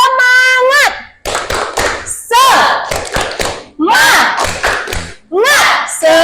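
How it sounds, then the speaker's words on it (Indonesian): A class of Indonesian junior high students performs a rhythmic spirit clap in a classroom, bursts of hand claps in patterned groups mixed with loud chanted voices, several phrases separated by brief pauses. "Tepuk semangat."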